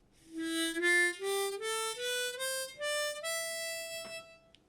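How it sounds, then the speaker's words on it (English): A harmonica climbs the Phrygian scale one note at a time, eight clear sustained tones stepping upward in an even rhythm, played alone and fairly softly. "This is called the Phrygian scale and it sounds like this."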